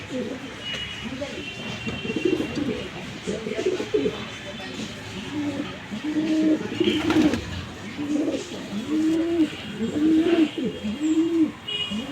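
Stone-eyed racing pigeons coo in a loft in Tangail, with repeated rolling, looping coos rising and falling throughout and a steady murmur of the flock behind.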